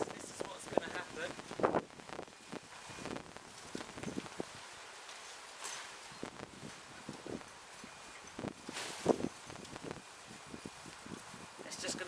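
Wind buffets an unpegged OZTent RV tent, giving gusty rushing and irregular flapping of tent fabric, with a person talking in the background.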